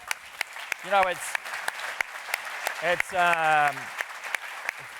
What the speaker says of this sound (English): But just a huge round of applause.